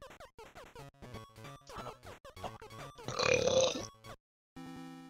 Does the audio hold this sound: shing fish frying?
no